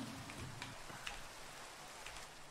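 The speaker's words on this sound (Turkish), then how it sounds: "Şu yağmuru kapatsana ya" Rain falls steadily in Minecraft, a soft, even hiss with scattered faint drop ticks that runs through the whole stretch at low volume, with no voices over it.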